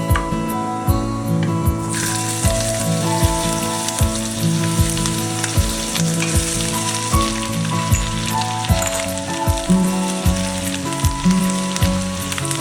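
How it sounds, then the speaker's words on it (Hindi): Urad dal sizzles and fries steadily in hot oil in a home kitchen pan, a continuous crackling hiss with a low simmering undertone and occasional stirring, close and fairly loud with no talking. "अब मैं ये उड़द का दाल डाल देती हूँ। उड़द दाल को थोड़ा सा फ्राई कर लेंगे।"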